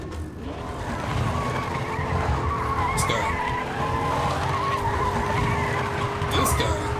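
Car tires skid and squeal continuously in the video game Fortnite, a long rough screech layered over a revving engine, with a player talking over it.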